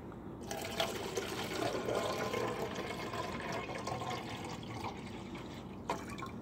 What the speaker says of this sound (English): fill the container all the way to the top with water